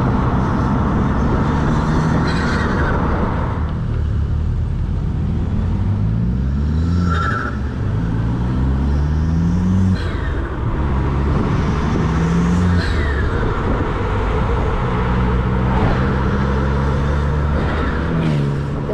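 Tuned Opel Corsa D OPC turbo engine fitted with a large pop-off valve, revving loudly and steadily up and down with repeated rising and falling pulls, close and continuous, with faint hiss bursts between gear changes.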